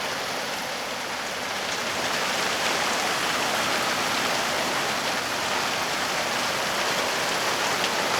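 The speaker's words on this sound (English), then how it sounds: "Plenty of rain now." Steady rain pours outside a garden shed, a dense, even hiss of drops drumming on surfaces without letup, fairly loud and close throughout.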